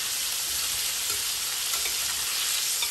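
Chicken pieces for orange chicken sizzle steadily in hot oil on their second fry, a loud, continuous dense crackle with no talking.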